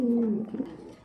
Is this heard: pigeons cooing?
yes